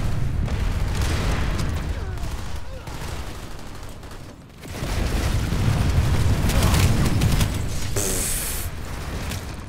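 Missile explosions in the online shooter PlanetSide 2 boom through a dense battlefield mix of gunfire and blasts, loud and continuous apart from a brief lull near the middle, with a voice partly heard underneath.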